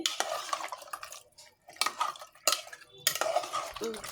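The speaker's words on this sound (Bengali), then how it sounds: "নাড়াচাড়া করে আমি এটা চুলায় বসিয়ে দেব" Vegetables with a little broth being stirred in a pressure cooker, a spoon scraping and clinking against the metal pot in bursts with short pauses, close and fairly loud.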